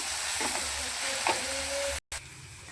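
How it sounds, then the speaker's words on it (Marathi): Masala of fried tomato, salt, turmeric and black masala sizzling in a pan while being stirred, with a steady close frying hiss, a few spatula scrapes and a brief drop to silence near the end. "हा मसाला पण एकदम मिक्स करून घेऊया।"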